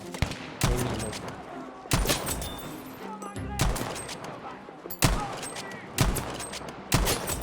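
Bursts of gunfire in the multiplayer shooter Battlefield V, several sharp volleys spaced a second or so apart over a steady battlefield din, with players talking in between.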